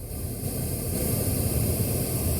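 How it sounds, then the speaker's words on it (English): Pink noise test signal played through radio speakers for acoustic analysis, a steady hissing, rushing broadband wash that swells slightly as it is turned up, continuous with no voices. "we got some pink noise playing"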